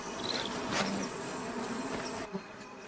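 A steady, dense buzzing of many honey bees droning together at a hive, close and continuous, fading slightly near the end.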